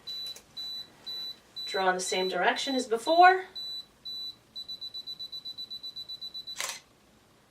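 A DSLR camera self-timer sounds a few beeps, then a rapid run of regular beeps ends in a sharp shutter click. Someone talks briefly partway through, with quiet room tone between sounds.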